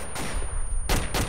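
Gunfire in the military video game ARMA 2, heard as two loud broadband bursts of shots, the first near the start and a heavier double burst in the final half second, over steady background noise.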